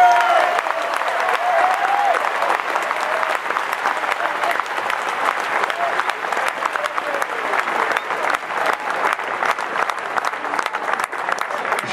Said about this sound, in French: Donc on peut les applaudir encore une fois.